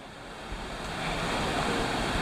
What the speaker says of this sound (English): We were fortunate enough to stumble upon a campsite that's right next to this pretty awesome waterfall